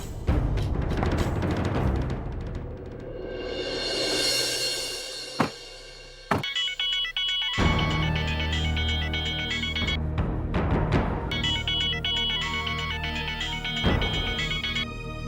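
A phone ringtone plays over dense background music, with a few abrupt breaks and shifts in the sound, fairly loud throughout.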